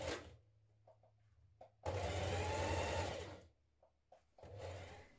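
A sewing machine runs a 1.5 centimeter seam allowance along a ruffle dress shoulder seam, with close, steady whirring bursts broken by short pauses and soft handling sounds.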